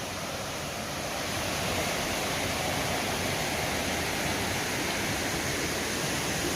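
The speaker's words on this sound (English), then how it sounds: "Raging waterfalls on this creek." Raging waterfall on Steels Creek in North Carolina, a loud, steady full-band roar of crashing whitewater that holds constant and close throughout, with no voices.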